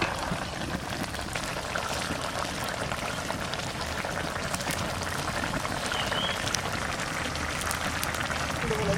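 Raw hilsa fish dropped into hot mustard oil, sizzling and spitting in a dense steady hiss with scattered pops throughout, frying continuously without a break.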